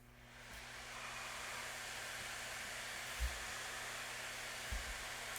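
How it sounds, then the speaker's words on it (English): Cooling fans of an Acer Predator Helios 300 gaming laptop spin at maximum speed, giving a steady, even rushing hiss like a hair dryer that holds unchanged throughout, with a few faint bumps underneath. "I'm guessing that's around 50 to 55 decibels of fan noise."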